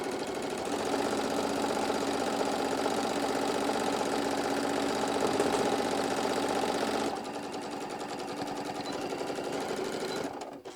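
A sewing machine stitches fabric around a daisy-centre piece, running in a steady, continuous mechanical whir that eases slightly in tone partway through before stopping at the end.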